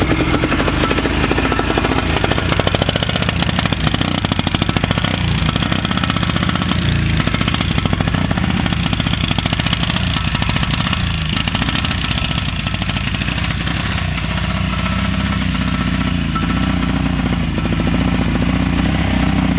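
A Honda Fourtrax ATV, a barn find running for the first time in 26 years, chugs along in super low gear over bumps, its engine a steady, close, loud rumble with slight load changes throughout.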